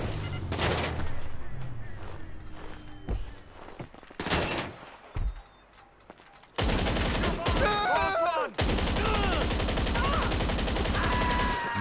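A magazine emptied in Grand Theft Auto V Online, with bursts of loud automatic gunfire, a short quiet gap, then long unbroken rapid firing that dominates to the end.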